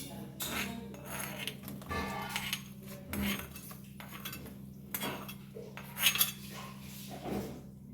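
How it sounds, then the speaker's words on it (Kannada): Vitamin-leaf tambuli getting its oggarane tempering: faint metal utensils clink and scrape against a pan in a few scattered, brief knocks, with one sharper clatter near the end over a low steady hum. "ಈಗ ನಾವು ಈ ತಂಬುಳಿಗೆ ಒಂದು ಒಗ್ಗರಣೆಯನ್ನು ಕೊಡುವ."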